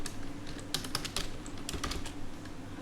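Computer keyboard typing while writing Python Matplotlib code, a quick irregular run of light clicking keystrokes in small bursts, close and fairly quiet with no talk.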